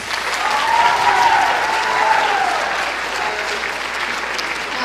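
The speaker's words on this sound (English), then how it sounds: "let's have one more round of applause for all of our candidates" An audience at a freshman class election assembly applauds the candidates with steady, dense clapping, while a faint voice or cheer rises briefly over it.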